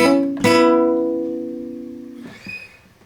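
On an acoustic guitar, two strings ring out together and are struck again after the ring finger lifts off. The notes sustain clearly and then fade, with a softer pluck at the end.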